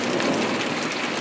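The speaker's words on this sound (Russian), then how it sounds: "Но гром идет. Гром." Heavy summer downpour in Tomsk, Russia, with thunder: a dense, steady hiss of rain on surfaces for a brief moment, with no voices.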